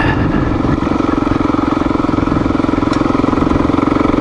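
Motorcycle climbing uphill on a gravel road, its engine droning loud and steady throughout with a close, continuous rumble and a faint rhythmic pulse.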